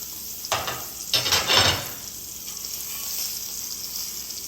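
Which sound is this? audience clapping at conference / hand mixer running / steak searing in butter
steak searing in butter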